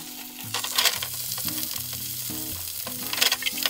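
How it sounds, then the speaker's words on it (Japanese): Garlic and onion sizzle and fry in a single pan for a fresh-tomato bucatini, a steady crackling hiss with brief louder spatters, close and continuous, with soft background music and no talking. "ニンニクにね、ちょっと色がつき始めたらすぐ玉ねぎを入れますよ。"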